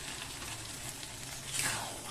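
Ghee added to a pan of carrot halwa gives a soft, steady sizzle that swells briefly toward the end, close up and with no talk.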